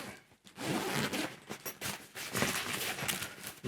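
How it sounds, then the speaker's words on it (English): A zipper is pulled open on the case of a Neewer three-pack of 480 LED bi-colour video lights, giving a near, continuous rasping run of teeth with a few brief pauses and tugs. "Unzip it."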